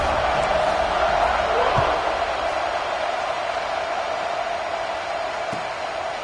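A football stadium crowd before kickoff at a Michigan college game sends up a steady, loud roar that stays broad and continuous, with a brief thump near the middle.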